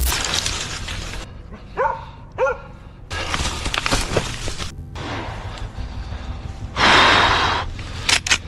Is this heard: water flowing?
no